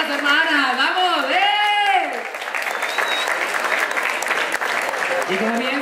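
Crowd applause at the Cuautla pride march, steady clapping and cheering from a large outdoor gathering, with a loud voice calling out over it in the first seconds and further shouting toward the end.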